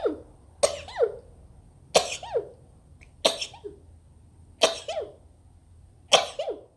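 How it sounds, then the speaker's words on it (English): Five sharp sneezes in a row, evenly spaced about a second and a half apart, close and loud with quiet breaths between. "Oh, I'm gonna sneeze."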